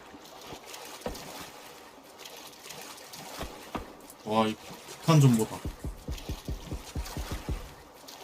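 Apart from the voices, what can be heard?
water splashing of teammates swimming in PUBG video game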